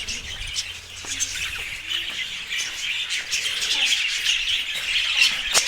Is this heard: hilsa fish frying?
no